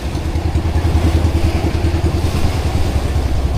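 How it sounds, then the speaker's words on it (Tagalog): A fishing boat's engine runs out at sea, a loud, close, rhythmic chugging clatter that holds a steady pace with no talking. "Hintayin natin makina natin."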